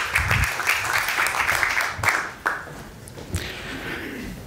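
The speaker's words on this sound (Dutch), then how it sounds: "Hartelijk applaus." An audience applauds before a performance of a Couperus story at a literary event, dense clapping that comes in bursts and then thins out over a few seconds.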